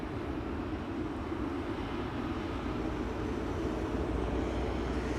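A Swiss Airbus A220 on the runway at Amsterdam Schiphol makes a steady, broad engine roar. It holds an even loudness throughout, with no voices.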